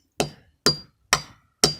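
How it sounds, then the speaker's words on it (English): Four sharp hammer blows drive nails into a tree outdoors, evenly spaced about half a second apart, each a crisp metallic strike with a short ringing decay, close and alone with no talk. "hammering nails all day"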